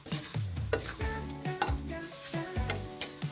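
Pork being stir-fried with palm sugar in a pan, a spatula scraping and clanking repeatedly over a steady close sizzle, with no one talking.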